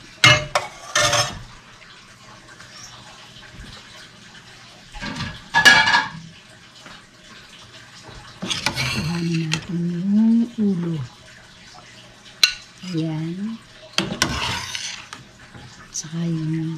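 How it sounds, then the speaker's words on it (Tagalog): Milkfish sinigang vegetable soup being served onto a plate in a home kitchen, with a few sharp clinks and scrapes of utensils and dishware spaced apart while someone speaks between them. "Ilalagay na po natin sa plate."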